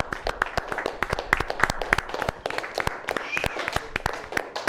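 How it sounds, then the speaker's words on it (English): A small group claps in sharp, uneven bursts, individual hand claps clearly separated, close and fairly loud. "let's clap it up"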